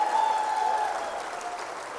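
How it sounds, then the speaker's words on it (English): An audience at a political victory rally claps loudly and steadily, with dense applause that fades slightly toward the end. "Give him another hand."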